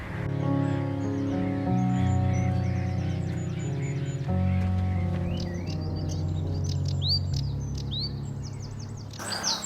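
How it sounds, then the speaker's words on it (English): A sedge warbler chatters with rapid, scratchy chirps and trills in the background, partly masked by a loud, steady droning hum. "that is a sedge warbler"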